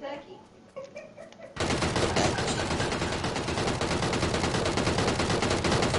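Sustained rapid automatic gunfire in PUBG erupts suddenly after a quieter start, loud and continuous with dense rattling bursts that carry through to the end.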